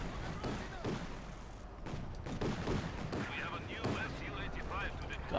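Tank gun shots in the Company of Heroes 2 video game, several booming battle blasts and gunfire bursts scattered through the mix, with a commentator talking over them.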